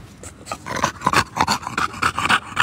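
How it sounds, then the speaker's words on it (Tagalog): An English Bulldog pants close by with quick, rhythmic breaths broken by wet snorts, loud and alone. "Si Lucky ay English Bulldog"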